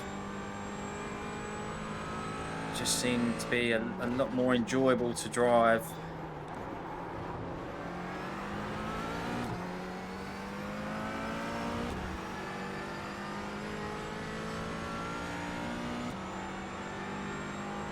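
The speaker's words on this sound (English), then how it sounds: "who doesn't like the sound of a McLaren?" A McLaren 570S GT4 engine in the iRacing simulator revs in a short burst of rising and falling pitch, then settles into a steady drone, with someone talking over it.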